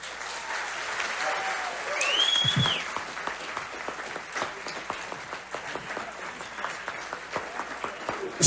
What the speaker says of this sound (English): Ladies and gentlemen, please round of applause.